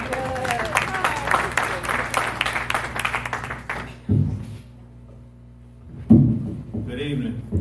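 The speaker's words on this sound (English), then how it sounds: "Let's just clap for Drake." An audience at a Kansas City urban farmers co-op relaunch claps for Drake, dense clapping for about four seconds that then stops, followed by someone speaking to the crowd.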